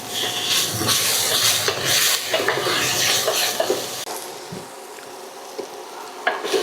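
Vegetables for jambalaya fry in a hot pan, giving a steady close sizzle and hiss broken by scraping, clattering stirring strokes, which stop partway through and leave a quieter sizzle with occasional knocks.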